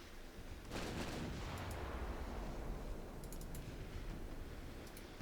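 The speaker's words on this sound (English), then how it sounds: "Let's just fire off some ammo and get out of here." Naval guns from warships firing in Ultimate Admiral Dreadnought: one heavy blast early, then a dense, sustained rumble that fills the rest of the moment at moderate loudness, with faint clicks over it and no talking.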